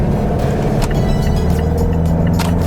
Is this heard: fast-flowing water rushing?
no